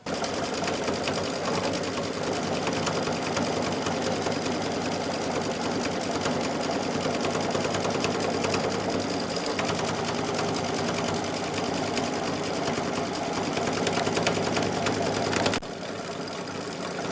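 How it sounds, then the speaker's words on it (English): An embroidery machine stitching a detail on a T-shirt, a fast steady mechanical rattle of the needle running continuously, close and even, then dropping slightly in level near the end. "I'm going to go to my last step, stitching the detail before we can start cutting"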